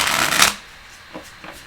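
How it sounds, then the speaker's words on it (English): A deck of tarot cards riffled in one brief, loud burst of shuffling during a reading, followed by a couple of soft card taps and quiet handling, with no voices. "Athena, how many more shuffles?"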